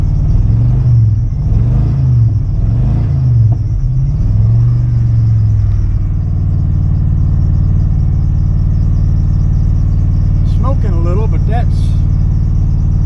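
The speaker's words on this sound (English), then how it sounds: "It may be burning some of the carbon off inside that motor." A motor runs with a steady low rumble and revs in three rising-and-falling surges early on, then settles to an even idle. A voice is heard over it near the end.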